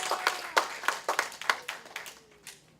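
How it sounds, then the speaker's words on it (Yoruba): A church congregation claps at a choir anniversary service, several sharp rhythmic hand-clap bursts at a steady beat, fairly close, thinning out and fading over about three seconds. "Let us clap for Jesus."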